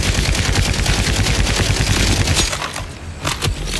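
Loud, sustained automatic gunfire in a video game, rapid continuous bursts that thin out into a few separate shots at the end.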